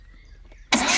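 A VW Passat B5 engine turned over with the key: a quiet pause, then the starter and engine burst in loudly near the end and keep running.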